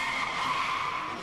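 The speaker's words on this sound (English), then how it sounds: "There's raging traffic outside." Car tires skid in raging traffic outside, a steady, loud hissing screech that holds for about a second with no pauses and no voices.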